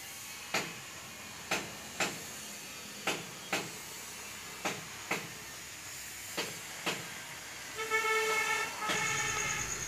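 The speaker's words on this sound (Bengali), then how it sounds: "গাড়ির শব্দ শোনা যাচ্ছে" A vehicle horn blares loud and tonal near the end, after a run of sharp, evenly spaced ticks, beside a roadside vegetable garden.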